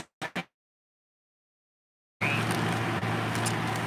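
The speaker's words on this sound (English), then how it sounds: "Sorry for the fan noise" A couple of brief clicks, then silence, then a steady broadband whir of a fan running continuously up close.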